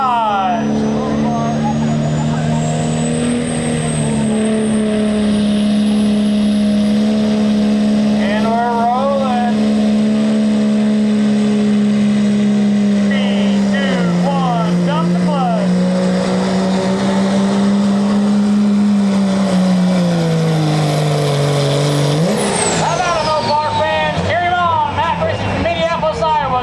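A 1997 second-generation Dodge truck revving hard at a truck pull, a loud sustained engine drone rising and falling in pitch over a long run, with an announcer and crowd noise beneath it.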